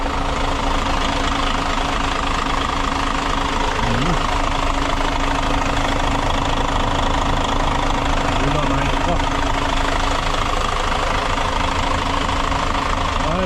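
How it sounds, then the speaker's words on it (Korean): A tour bus's heavy diesel engine idles with a constant low rumble and knocking throb, voices faintly audible beneath it. "좋고 엔진 소리도 좋고"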